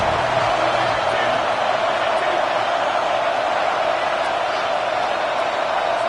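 A football stadium crowd roars steadily during a tense third-down play in the red zone, a dense, continuous wash of cheering and noise with no breaks.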